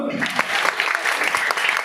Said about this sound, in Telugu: అమ్మాయి గట్టి క్లాప్స్ కొట్టు